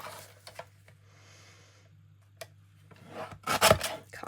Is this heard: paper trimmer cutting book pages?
yes